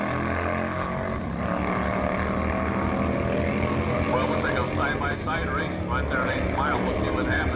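Drag racing motorcycles, including a bagger, accelerate side by side down the dragstrip, a loud sustained engine roar with rising revving tones, heard under a commentator talking.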